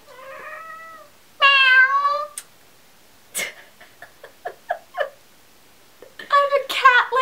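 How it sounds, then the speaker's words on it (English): A pet cat meows several times, with a long drawn-out cry, then a string of short chirps and mews and a final burst of meows, close by and loud. "I don't know if you can hear my cat."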